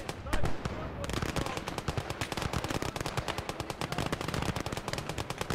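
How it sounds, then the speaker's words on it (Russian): Rapid bursts of gunfire in the war game Call to Arms: Gates of Hell rattle continuously, with dense machine-gun fire and a sharp blast near the start, loud and close. "Выстрел! Промазал, но мешки с песком разбил."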